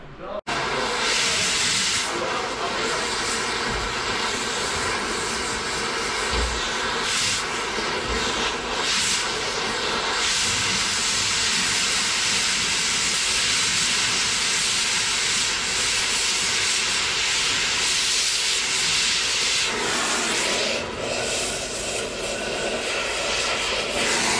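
Steady loud hiss of compressed air filling a soft tractor tire, continuous and close, holding for the full stretch with small fluctuations and a slight drop in tone near the end.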